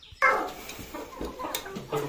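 A hen clucks close by in a few short, uneven bursts, with quieter rustling between them.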